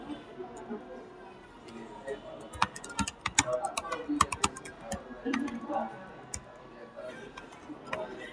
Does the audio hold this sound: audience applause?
no